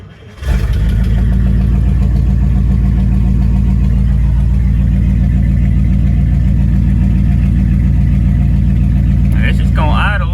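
A 1955 Buick Nailhead V8 with an overheating problem fires up and settles into a loud, steady, rumbling idle close by, holding an even lope for about ten seconds.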